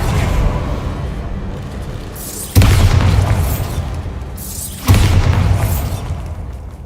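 Two loud, sharp explosive blasts from the Bombarda spell in a Harry Potter video game, each bursting suddenly and then rumbling away, spaced a couple of seconds apart over a steady low background.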